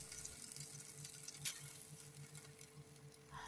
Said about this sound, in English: Then toast it until it turns to golden brown.